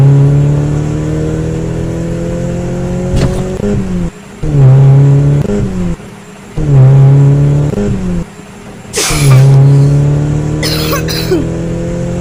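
A van's engine drones loudly while driving, rising through the revs in repeated acceleration pulls with brief drops between gear changes, and a cough breaks in near the end.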